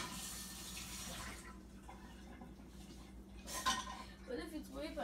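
Dishes, pots and cutlery clattering in a sink with running tap water, a steady wash of water noise through the first part and brief clinks later, with quiet voices in the background.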